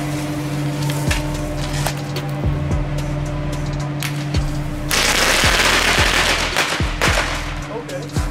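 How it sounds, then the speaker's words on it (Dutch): Sharp rotje firecracker bangs pop at irregular intervals, several close, loud cracks, with a louder burst of crackling partway through and faint voices underneath. "Even een rotje erbij."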